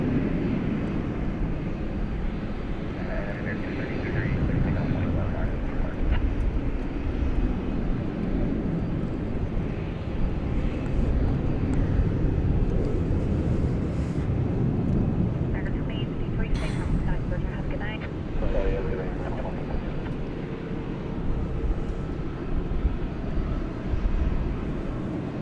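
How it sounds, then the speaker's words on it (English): An American Airlines Airbus A321 takes off at night at DFW Airport, its engines a steady distant roar beneath continuous talk. "American Airlines, and Airbus A321 about to lift off to the Southland."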